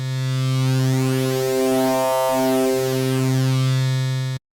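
Wavetable synthesizer tone with linear FM, a loud sustained buzzy note with shifting, sweeping overtones that dip briefly midway, then continue before cutting off abruptly; no voices.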